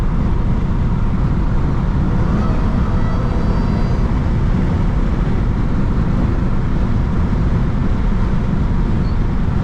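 A Dodge Hellcat with a supercharger drives in traffic, and its engine roars as a loud, continuous broadband drone. A faint whine rises above the rumble, heard from inside the car throughout.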